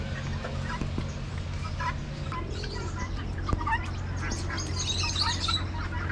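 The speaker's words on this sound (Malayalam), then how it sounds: "കോഴികളും താറാവും അരയണ്ണവും ഒക്കെ ഉണ്ട് ഇതിനകത്ത്." Chickens cluck and chirp in an animal enclosure at the RAK Nature Treasure Museum, where ducks and geese are kept too. Overlapping calls come from several birds over a steady background hum.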